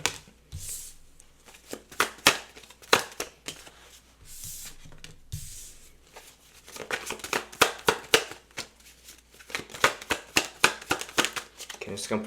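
Tarot cards are shuffled and handled close by, giving repeated crisp riffles and slaps in irregular bursts, with a short pause partway through.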